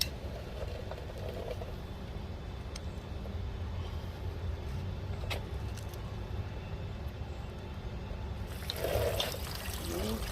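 Coolant drains from a hose on a Kubota V2003 diesel generator into a catch pan, a continuous soft trickle and dribble of liquid that swells briefly near the end.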